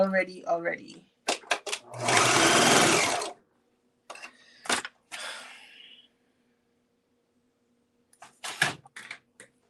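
A serger sewing machine whirs in a single loud burst of a few seconds while fabric bunches up, framed by short breaths, sighs and scattered handling clicks.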